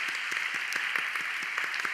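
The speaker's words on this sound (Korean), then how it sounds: "우리 챔버팀을 위해서도 격려와 사랑의 박수 하겠습니다." Congregation applause at a church university-group worship service in honour of the chamber music team, a steady, dense wash of many hands clapping throughout, moderately loud with no voices.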